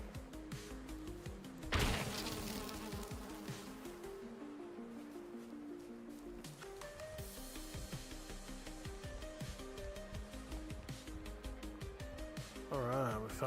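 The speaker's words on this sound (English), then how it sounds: "Alright, we found some bees." Bees buzz steadily in the Valheim video game, a faint droning hum running under looping in-game music.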